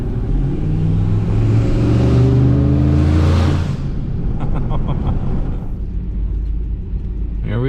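A 10th-gen Ford F150 sleeper with a big turbo and loud exhaust drives close by, its deep engine note building to a strong rev in the first seconds, then settling into a steady rumble as the truck keeps moving.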